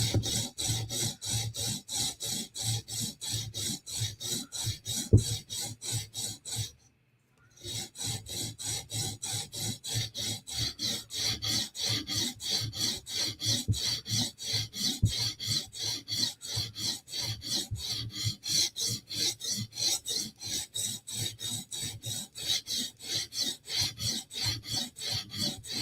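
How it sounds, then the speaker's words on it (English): Steady rasping strokes of a Spyderco knife blade worked on a sharpener late at night, repeating evenly and up close, with a brief pause partway through before the rhythmic scraping resumes. "Sharpening, sharpening."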